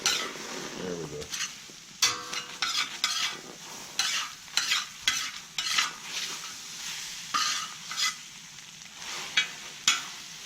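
Eggs cook on a cooking disc while a utensil repeatedly scrapes and stirs them, producing bursts of sharp metallic scraping over a low sizzle, with brief pauses between strokes.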